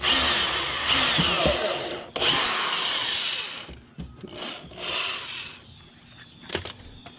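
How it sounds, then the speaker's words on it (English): A power drill whirs in several short bursts, drilling into the centers of plastic push clips on a BMW F10 front mud flap, with grinding rattles between pauses. "all you do is drill into these, right in the center"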